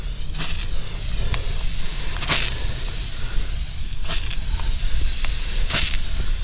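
A can of Rust-Oleum metallic black spray paint sprays continuously from about a foot away, a loud, steady hiss with several short sharper bursts as the nozzle is pressed.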